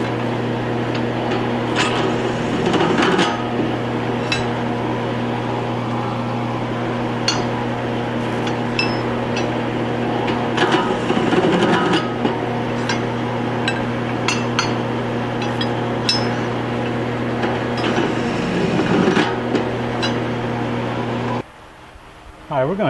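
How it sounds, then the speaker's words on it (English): A drill press hums steadily while chamfering small metal parts held with a wrench, with scraping and clinking bursts over the motor drone and occasional talk. "put a little chamfer on these to make the capping go well"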